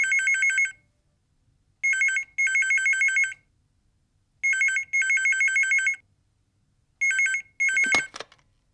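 A telephone bell rings in repeated, evenly spaced double bursts, clear and fairly close, with quiet gaps between rings and no talk over it.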